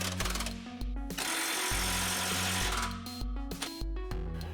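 Power tool rattling in bursts while the fuel tank straps are reattached during a fuel pump install on a Chrysler PT Cruiser, with close, clattering mechanical hammering and short pauses between runs.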